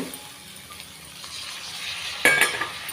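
Sorghum sizzles softly in a pan with turmeric, and then a spoon scrapes and clinks against it during a brief burst of stirring near the end.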